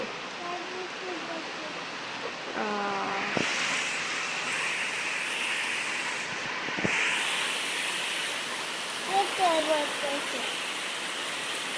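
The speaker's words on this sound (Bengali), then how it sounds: "বাইরে বৃষ্টি পড়তেছে?" Steady rain falls outside a home, a continuous hiss throughout, with brief voices and small household noises over it.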